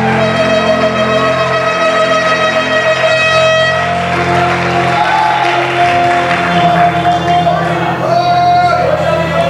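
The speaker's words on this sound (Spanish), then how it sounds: "Dale un aplauso a Dios si me está creyendo" A church congregation claps together during a sermon, a sustained wash of applause with some cheering and crowd noise, mixed with music and a voice over the top.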